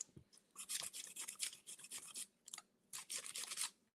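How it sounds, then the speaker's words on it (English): Wood being sanded by hand with sandpaper while building a painting display, heard as close, bursty rasping strokes in quick runs with short pauses between them. "That way y'all don't have to sit through the sanding noise 2 times."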